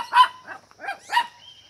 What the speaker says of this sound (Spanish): Bueno, por aquí están, hay bastante perro.